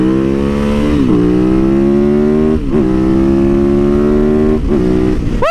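A cruiser motorcycle accelerating hard, its loud, close engine rising in pitch through each gear with brief dips at the shifts, a throaty continuous roar throughout.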